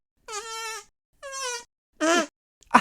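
A fart sound imitated with hands and mouth, three drawn-out buzzy raspberry blasts with pauses between them, followed by a short sharp burst, close and isolated with no other sound.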